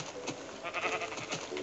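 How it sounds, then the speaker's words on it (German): Sheep bleating in the video game Minecraft, a couple of short nasal bleats over steady game background sound, with someone talking in German. "Oh, ein Schaf."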